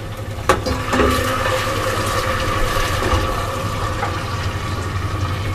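Water poured into a pan of fried onions while making a quick curry masala for a ridge gourd salan, a steady close splashing pour with a sharp sizzle right at the start.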